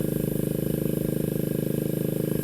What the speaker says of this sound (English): now it's warmed up, the idle's a little high